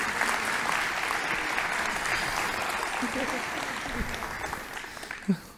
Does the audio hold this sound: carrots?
no